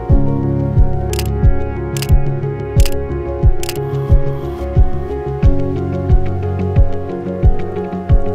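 Camera shutter clicks from a Fujifilm X100VI fire repeatedly in a quick, regular series, sharp mechanical snaps close to the microphone, with a few brighter clicks early on.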